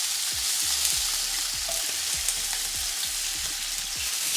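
Sausages sizzle steadily in a hot frying pan, a loud continuous crackle with repeated soft pops and spits of fat, close up and with no one talking.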